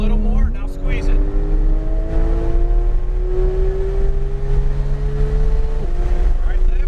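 A Porsche 911 GT3 on a race track pulls under steady rising throttle, its engine drone climbing gradually in pitch, loud and close from inside the car, with an instructor's voice over it.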